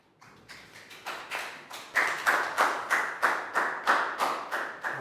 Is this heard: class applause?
yes